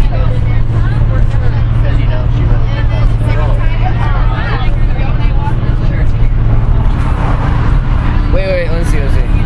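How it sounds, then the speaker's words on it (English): A bus engine drones loudly and steadily while riding with the windows down, wind and road rumble filling the cabin as people chatter throughout. "I love riding on the bus"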